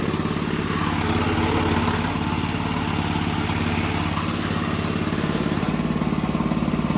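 A minibike engine fitted with a Stage 1 kit runs steadily up close, a loud, even buzzing drone with a fast, regular putter throughout.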